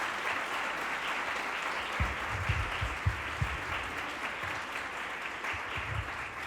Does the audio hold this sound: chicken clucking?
no